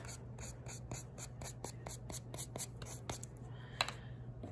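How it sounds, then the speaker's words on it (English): A paintbrush scraped against a palette or container edge makes a quick series of dry, rhythmic scratches, close and quiet over a low steady hum, ending with a small clatter. "Scrape my brush off."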